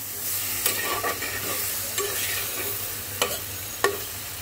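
Prawns stir-frying over low heat with potato, aubergine, sweet gourd and Malabar spinach, a steady soft sizzle broken by a few sharp spatula scrapes and clinks against the pan, close and alone.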